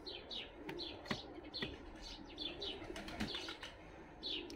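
Fighting pigeons in a loft in Tbilisi, Georgia, around evening feeding with chicks present, give faint chirps, soft coos and occasional wing flaps in a quiet, continuous murmur of bird activity.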